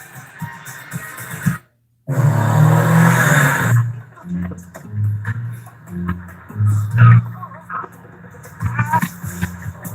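A 2019 Ford Edge ST performance SUV engine revving and accelerating, loud and close, with a brief silent gap before a strong surge that tapers into a lower rumble and clatter.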